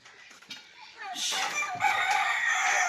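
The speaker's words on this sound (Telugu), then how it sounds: "ఇవేమో మా పెద్ద కోళ్ళు ఉంటాయి, ఇక పెద్దగా ఉన్నాయి, ఏ గుడ్లు పెట్టే కోళ్ళు" Country-breed egg-laying hens cluck steadily in a coop as a rooster crows loudly close by, the coop growing noisier partway through.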